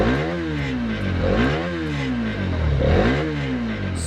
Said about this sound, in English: I'm going to rev it up a bit.